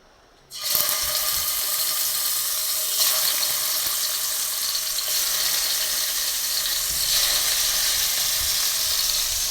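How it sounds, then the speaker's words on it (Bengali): Fish frying in hot oil in a home kitchen pan, giving a loud, steady broadband sizzle that bursts in abruptly and holds without letup, with faint spits and crackles throughout. "মাছটা ভেজে নেব।"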